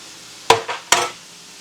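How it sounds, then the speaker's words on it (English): Two quick clinks of a utensil against a bowl while Dijon mustard sauce is mixed, close and fairly clear, with no talking. "Now we'll mix that up"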